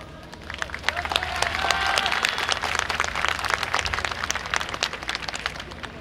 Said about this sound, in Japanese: お手拍子などいただきならご声援をよろしくお願いします